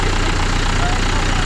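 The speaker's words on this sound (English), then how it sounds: "This is the bus that we're taking over to the boat" A large bus engine idles with a steady, loud, rumbling drone, filling the whole moment without pause.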